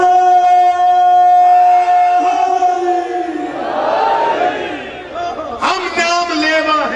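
At a 3 Shaban religious celebration for Imam Hussain, a gathering loudly chants religious slogans through an amplified microphone, with sustained, ringing shouted voices that rise and swell toward the end.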